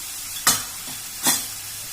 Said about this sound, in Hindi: ये हमारा मसाला भून रहा है।